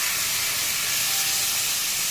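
Spice paste sizzles as it hits frying rice in a pan for a vegetarian rice and pointed gourd dish, giving a loud, steady, close hiss with no pauses.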